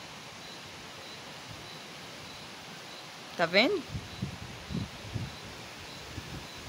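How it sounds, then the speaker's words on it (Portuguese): Wind rushes through swaying eucalyptus trees in a steady, breathy roar that fills the whole stretch, while a person briefly speaks partway through. "Ó os pés de eucalipto lá, ó. Como tá balançando. Ó. O barulhão do vento."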